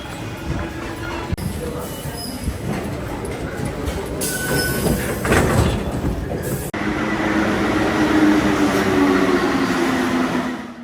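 A Paris metro train rolls through a tunnel with a loud, steady rumble and broadband roar, brief squeals and clatter partway through, then a sustained louder run to the end.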